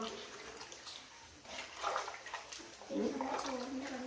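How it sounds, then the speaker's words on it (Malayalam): Water is poured into a cooking pot in a home kitchen, a splashing, gushing flow that swells in two bursts, with a voice talking in the background. "അങ്ങനെ വെള്ളം ഒഴിച്ച് കൊടുത്ത്"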